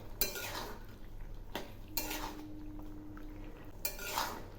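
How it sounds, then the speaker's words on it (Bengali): A spoon stirs bottle gourd curry with thickened milk in a pan, giving a few quiet scraping and clinking strokes at irregular intervals. "একটু নেড়ে দিচ্ছি।"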